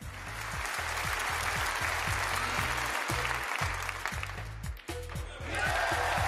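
A snooker crowd at the UK Championship applauds the winner, steady dense clapping throughout, heard under a regular rising tonal pulse in the background.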